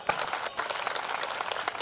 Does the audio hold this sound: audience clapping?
yes